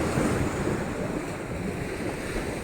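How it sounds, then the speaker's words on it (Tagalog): Sea waves washing onto the shore in Davao de Oro, a steady broad roar of surf blended with wind noise against the microphone, continuous and fairly loud, with no voices. "Andito ako ngayon sa tabi ng dagat."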